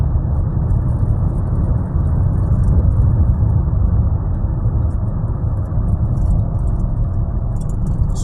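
A steady low road rumble of a car driving, with a constant engine and tyre drone from inside the moving vehicle throughout; no distinct pass-by stands out.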